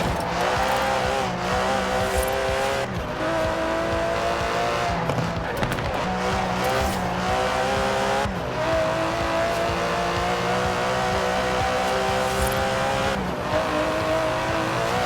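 An Aston Martin DB11's 5.2-litre twin-turbo V12 drones steadily in Forza Horizon 4, a loud sustained engine note with shifting pitch sweeps and brief dips, running without pause throughout.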